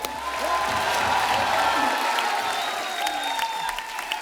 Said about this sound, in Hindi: आप सबकी जोरदार तालियों के बीच मैं उनको मंच पे आमंत्रित करना चाहता हूं